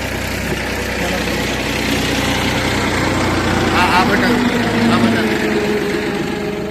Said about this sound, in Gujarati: આ તમે જોઈ શકો છો આખું ટ્રેક્ટર ભરાઈને અત્યારે બટેકા જાય છે